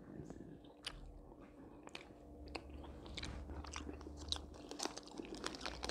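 Milk chocolate being bitten and chewed close up, with soft crunches and wet squishy chewing repeating through the clip under quiet room noise.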